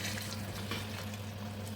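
Banga palm fruit extract is poured into a cooking pot for banga soup, giving a short, steady liquid gush with a low continuous hum beneath it.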